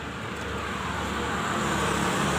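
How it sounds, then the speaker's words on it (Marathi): Traffic rushing along a village road near Ambivali, a steady broadband roar of passing cars and vehicles heard from the roadside, moderately loud and continuous. "तिथे गाड्या बघा किती सुसाट चालतात"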